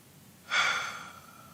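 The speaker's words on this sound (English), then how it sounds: "slow down the pace of your breathing" One slow, deep breath, a single airy inhale or exhale that swells quickly and fades gently over about a second, close and alone in a quiet room.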